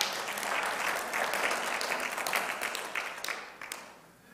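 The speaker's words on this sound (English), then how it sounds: "we can clap for that" A church congregation claps together in steady, dense applause during a sermon, loud and sustained before thinning out near the end.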